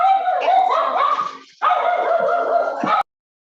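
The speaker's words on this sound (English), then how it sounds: "Sorry for the dog." A dog barks and yips in two loud, close bursts of repeated, whimpering barks with a short break between them, then stops abruptly.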